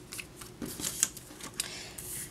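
Scissors snip diagonally through craft paper for a bookmark, a handful of quick crisp cuts spread over about two seconds, close and fairly quiet with no voices.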